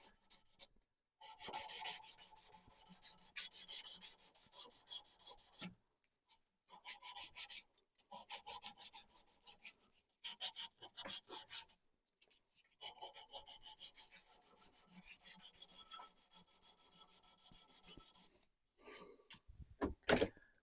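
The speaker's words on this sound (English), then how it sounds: "So just scrape most of it off with the razor blade." A razor blade scrapes along the wooden handle of a cabinet maker's turnscrew in repeated close rasping strokes, grouped in bursts with short pauses between them.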